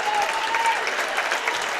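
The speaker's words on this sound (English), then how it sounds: "Addie Vollert, Kendall Tillman, a round of applause." A crowd at a girls' regional final basketball game applauds the seniors, a steady wash of clapping at moderate loudness that fills the short moment without a break.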